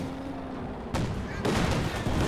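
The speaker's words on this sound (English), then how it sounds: "It's the machine gun, get the suppression in." Machine gun fire in the strategy game Company of Heroes 2, a dense, continuous wash of rattling shots and battle noise that surges louder twice, with no pauses.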